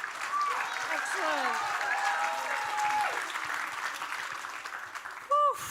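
Audience applause for a team's pitch at a national grand final, a steady broad wash of clapping for about five seconds that fades, with speech and a short loud exclamation near the end.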